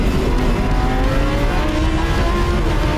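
A retuned McLaren supercar laps a race track at half throttle, its loud, close engine drone holding steady and continuous with a rough, buzzing edge throughout.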